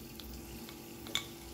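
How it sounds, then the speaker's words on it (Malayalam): Dried red chillies sizzle in hot oil in a pan for a rava upma tempering, a quiet steady fry with a couple of small pops and a faint clink. "ഇതിലാദ്യം ഞാൻ വറ്റൽ മുളക് ഇടുകയാണ്."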